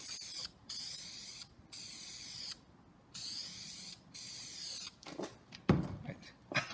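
A can of Krylon Color Max clear gloss spray paint hisses out in repeated short bursts, close by, with brief gaps between sprays and then some rattling and handling of the can.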